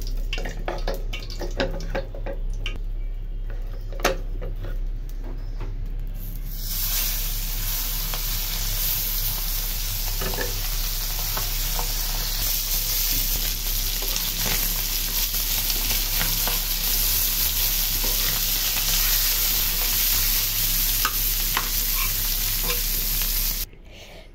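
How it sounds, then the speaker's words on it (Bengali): Small jatka fish coated in spice paste frying in a pan, a loud continuous sizzle that surges after a few seconds and holds steady, with faint stirring and scraping underneath. "জাটকা মাছটা এখন ফ্রাই করবো"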